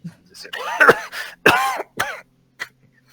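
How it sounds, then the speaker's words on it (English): A harsh, close coughing fit: several rough, throaty coughs in quick bursts with short gasps between, ending in a smaller cough. "a huge coughing fit breaks out"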